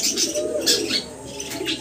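A pair of red-coloured gola pigeons coo close by in soft, repeated throaty bursts, with a faint chirp and a flutter mixed in.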